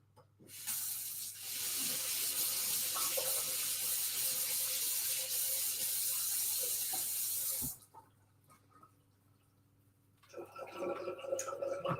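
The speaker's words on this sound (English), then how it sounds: "Give them a quick rinse." Tap water runs steadily into a sink while herbs are rinsed under it, a loud continuous splashing hiss lasting several seconds before cutting off, followed by quieter handling sounds and a faint resumed trickle.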